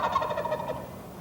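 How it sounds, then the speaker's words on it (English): A wild turkey tom gobbles loudly and close by, a rapid warbling rattle lasting about a second. "the steam backlit in the sunlight shoot out when that big boy gobbles"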